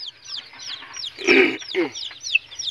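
A red junglefowl hen clucks with soft, repeated calls while high, thin chick peeps chirp continuously around it, close by.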